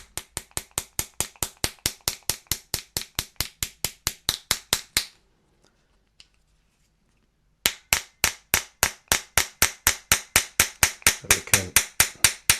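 A hammer smacks a pin into a Salvo Precision Spear build with a rapid, steady run of sharp metallic taps, then pauses briefly while a voice speaks a few words before the even, regular strikes resume.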